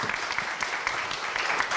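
An audience at a university president's debate with faculty panelists on a Korea University campus breaks into applause, giving a dense, steady patter of many hands clapping throughout.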